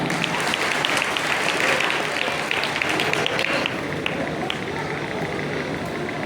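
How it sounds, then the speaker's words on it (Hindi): A crowd at an evening stage gathering for the Karma festival eve breaks into loud, sustained applause, a thick wash of many hands that holds steady throughout. "जोरदार ताली एक बार।"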